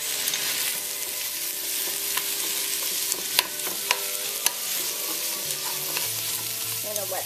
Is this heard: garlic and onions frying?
yes